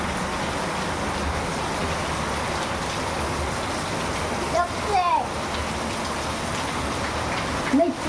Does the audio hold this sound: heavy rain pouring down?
yes